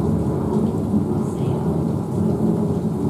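A thunderstorm effect from Disney's Carousel of Progress attraction, heavy rain pouring in a dense roar with low rumbling thunder underneath, loud and continuous with no talking.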